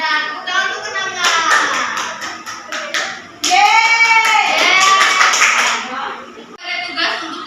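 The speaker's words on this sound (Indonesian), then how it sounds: "Tepuk tangan untuk kenangan." A class of fourth-grade children clapping their hands in a classroom, bursts of rhythmic claps mixed with loud chanting and a teacher's voice.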